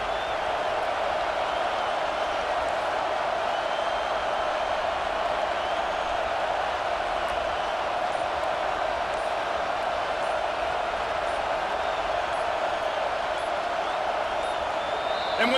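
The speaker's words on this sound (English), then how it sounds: "the crowd forces a false start." A steady, dense stadium crowd roar at a Tulane vs Alabama college football game, holding loud and unbroken for about fifteen seconds with no pauses or swells.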